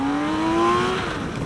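A 2016 BMW K 1600 GT Sport motorcycle's engine pulls hard at full throttle, close and loud, with a steadily rising whine running through the whole moment and no talking.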